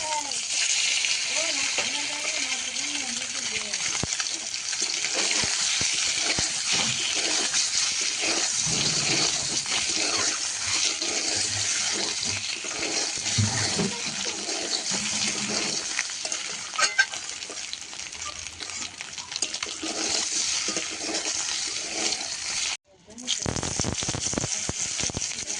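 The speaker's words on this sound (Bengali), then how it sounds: "কড়াইতে তেল দিয়ে দিয়েছি, আর এখন সিদ্ধ করা যে ডিমগুলো, সেই ডিমগুলো ভেজে নেব।" Boiled homegrown duck eggs fry in hot salted oil in a wok, giving a loud, steady sizzle that crackles and spits almost without a break, then cuts out for a moment near the end before resuming.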